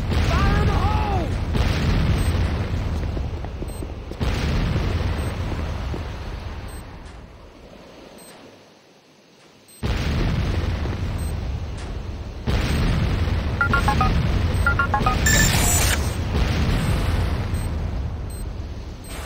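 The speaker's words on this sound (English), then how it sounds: "C4 is set. Fire in the hole!" In the video game Renegade, a C4 explosion lands among heavy booming blasts that fill the scene in long loud bursts, broken by a short near-silent gap before the rumbling resumes alongside other game effects.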